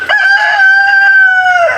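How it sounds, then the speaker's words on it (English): A loud, close rooster crow, one long drawn-out cock-a-doodle-doo heard alone. "You dang rooster, shut up."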